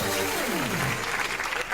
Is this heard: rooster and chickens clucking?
no